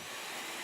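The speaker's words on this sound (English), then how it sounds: "Close enough, it's a vacuum cleaner." A robot vacuum cleaner runs in the Genshin Impact video game, giving a steady, even whir of broadband noise that holds at a constant level through a brief moment, with no talk over it.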